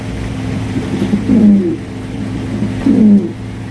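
A male Andalusian giant Huma pigeon coos twice, each a low throaty rolling call, close and fairly loud, separated by a short pause over soft background noise.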